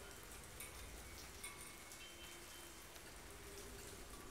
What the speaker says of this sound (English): it looks like the rain and background music, or background sound, has now decided to play here